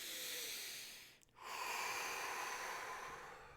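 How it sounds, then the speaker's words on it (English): A long, breathy exhale hisses out for about a second, pauses briefly, then a steady airy breath continues, close and soft with no talking. "take another deep breath in,"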